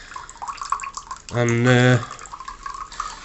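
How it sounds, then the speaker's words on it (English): Water flowing out of a Sawyer 3-way water filter outdoors, a steady trickling stream heard close and fairly loud, with someone talking briefly under and around it. "look how clean the water is coming out compared to the water when I was collecting it"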